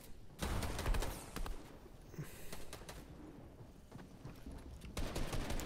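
Pump shotgun blasts in Fortnite boom out in quick clusters amid rapid building clatter, loud and close, with a dense burst at the start and another near the end.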